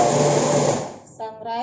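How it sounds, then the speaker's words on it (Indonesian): A kitchen blender whirs loudly at full speed, then winds down and cuts off, after which a voice speaks briefly. "Ambil blender"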